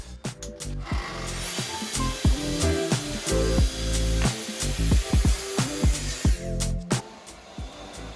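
Track saw cutting a 10mm rebate in wood: a loud motor whine held steady for several seconds, framed by clunks and knocks of the saw and workpiece before and after the cut.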